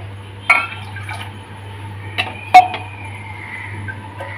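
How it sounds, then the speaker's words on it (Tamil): Water poured into a small pressure cooker, a few short splashing pours with metallic clinks of the vessel, close and distinct against a quiet background hum. "இதில் ஜலத்தை ஊற்றுவோம்"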